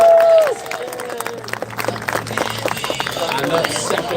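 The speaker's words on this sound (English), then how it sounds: "Give a round of applause for Johnny," Audience applause and cheering for a rider at a horse show at the Royal Armouries, a steady wash of clapping and crowd noise that rises after a brief opening tone and holds at moderate loudness.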